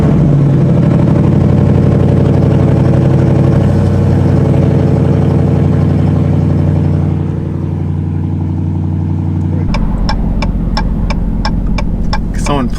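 A lifted Jeep Grand Cherokee WK with a rebuilt transmission idles right after a cold start, a loud, steady, throbbing hum up close. Near the end a series of rapid, evenly spaced clicks or ticks comes in over the idle.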